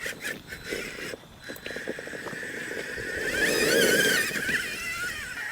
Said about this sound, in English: Obviously it's a rock racer first, but let's see if it crawls okay.